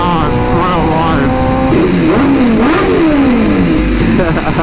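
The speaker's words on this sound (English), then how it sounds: "Riding an H2R in traffic, bro." A Kawasaki Ninja H2R is ridden through traffic, its engine loud and close, pitch rising and falling as it revs and shifts, with a voice mixed in over the steady roar.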